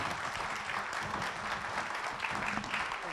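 Audience giving a round of applause at a city council proclamation ceremony, a continuous, even burst of many hands clapping in a room, with a faint murmur underneath.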